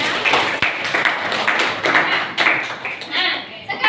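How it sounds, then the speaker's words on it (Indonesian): Students in a chemistry classroom clap their hands in a brief scattered burst of sharp claps, with a teacher's voice talking over and between them. "Oke, tepuk tangan."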